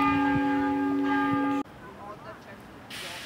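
The bell of St. Mark's Church in Belgrade rings loudly with a rich, sustained tone for over a second, then stops abruptly, leaving quiet outdoor ambience.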